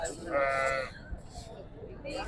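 Goats at a livestock market in Sindh bleat once or twice nearby, a short wavering cry over a busy background of murmuring voices and market noise.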